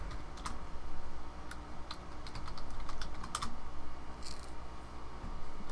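Keys clatter on a computer keyboard at a Fedora Linux desktop on a Dell Ryzen 7 1700 machine, quick irregular clicks in short bursts over a steady low hum, fairly close and soft.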